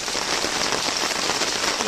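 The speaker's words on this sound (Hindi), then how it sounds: "शदीद बारिश" Heavy rain pours down steadily, a dense, loud and even hiss of drops drumming on surfaces outside a home, with no pauses.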